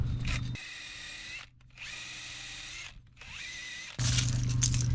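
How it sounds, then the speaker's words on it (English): A power drill with a wire brush attachment scrubs rust off the brake hub of a Ford Escape, whining in three loud bursts separated by brief pauses, close up with no talk. "Clean this up with a wire brush."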